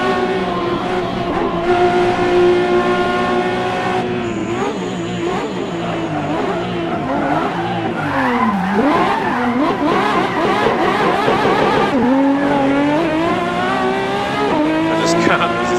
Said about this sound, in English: I just can't resist the slide